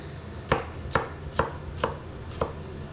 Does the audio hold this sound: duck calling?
no